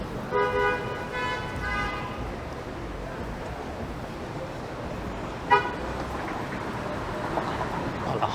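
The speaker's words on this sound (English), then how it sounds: "Honking going on." Car horns toot a few times in traffic on Queen Street West in downtown Toronto, one longer honk early and a short blast later, over a constant rumble of street noise.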